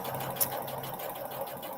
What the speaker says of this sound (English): And I'm just going to stitch.